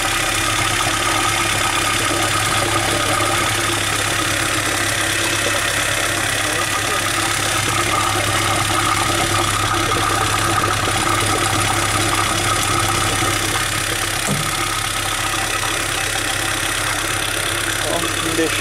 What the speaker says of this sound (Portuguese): o barulho dos tuchos deve diminuir conforme o carro aquece